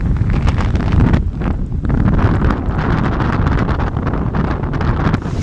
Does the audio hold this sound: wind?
yes